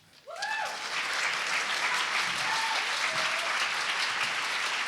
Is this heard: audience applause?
yes